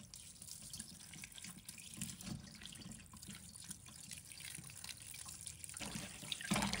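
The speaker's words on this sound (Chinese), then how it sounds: "再用清水搓洗，去除表面的血水和杂质" Running tap water pours into a sink as soaked pork bones are rubbed and rinsed clean, a steady close splashing stream with a louder gush near the end.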